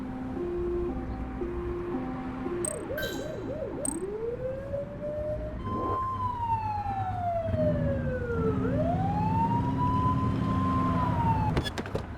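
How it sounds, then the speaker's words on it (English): Police car siren in the video game The Precinct, wailing and yelping tones sweeping up and down over a running engine, loud and close, with a few sharp electronic blips mixed in. "Get behind them and flip the siren to make them pull over"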